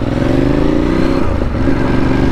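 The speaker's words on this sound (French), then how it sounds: "Elle est reconnaissable à 10 km cette moto, tellement elle est belle." A motorcycle rides past in a Paris park, its engine note steady and fairly close as it goes by, with no talking over it.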